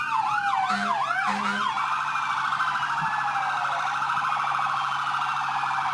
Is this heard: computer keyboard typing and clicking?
no